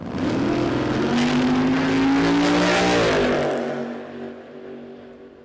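A drag racing dragster at a Queensland drag racing championship, a loud, close engine roar that rises in pitch and then fades away as the car recedes.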